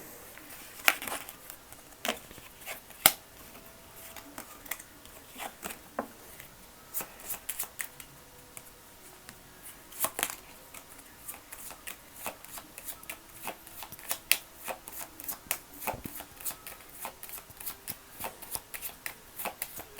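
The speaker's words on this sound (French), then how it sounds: "je vais tirer 6 cartes en complément" Tarot cards are shuffled and drawn in a quiet room, with soft continuous riffling and sliding and frequent sharp snaps and taps as cards are handled close by, all without speech.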